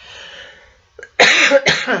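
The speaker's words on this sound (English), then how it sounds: "Pardon me, I do have a cough." A single loud, close cough in two quick harsh bursts follows a moment of quiet and a faint murmur.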